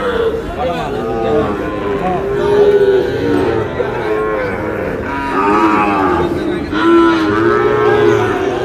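Sahiwal bull calves at a livestock market mooing repeatedly, loud and close, with several drawn-out calls overlapping amid crowd chatter and background talk.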